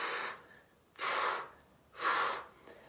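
Three slow, breathy rushes of air spaced about a second apart, the belly-pumped inhalations and exhalations of didgeridoo circular breathing practice, close and soft with no instrument tone.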